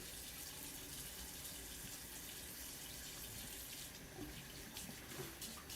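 Running tap water splashing steadily into a sink while a razor is rinsed, a constant faint hiss with a few brief louder splashes near the end.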